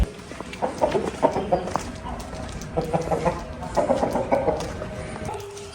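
A rooster from a flock of fighting chickens kept in Namangan gives short, close clucks in several quick bursts, with brief pauses between the groups.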